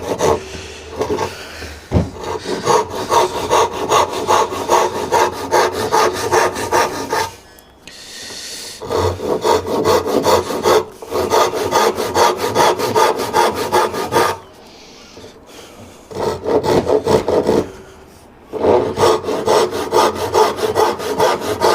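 A hand saw cuts dovetails in wood on a sawhorse workbench, with steady rhythmic back-and-forth strokes in three long bursts separated by short pauses, loud and close, with no talking.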